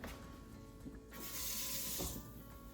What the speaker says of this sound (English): You're going to take the pan and put a little bit of water in it.